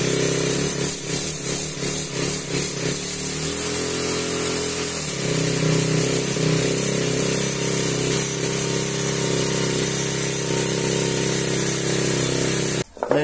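A small 4-stroke engine on a standup scooter, run on Wonderlube-treated oil, hums steadily at idle and then steps up to a higher, busier revving drone that holds close and loud to the end.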